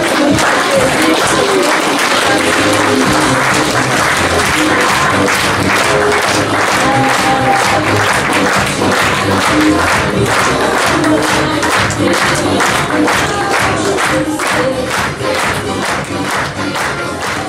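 An audience gives the rector a big, sustained round of applause, dense clapping from a large crowd mixed with a few cheers, loud and steady throughout.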